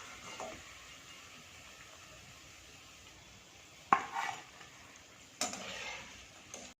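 Slices of bitter gourd frying in oil over a medium flame give off a soft, steady sizzle, and two sharp clinks of a utensil against the pan sound as the chips are turned over.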